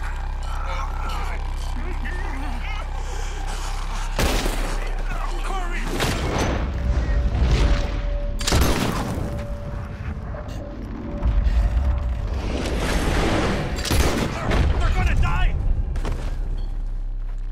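Gunfire in a Red Dead Redemption 2 shootout as shots are fired at ropes, with heavy booming blasts and bursts of shots over a low rumble, loud and close, with voices talking in between.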